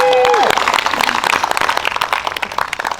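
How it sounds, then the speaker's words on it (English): An outdoor audience at a Shakespeare in the Park performance of A Midsummer Night's Dream breaks into dense, sustained clapping that carries through the whole stretch, with crowd murmur mixed in. "You can clap if you want to. Go ahead."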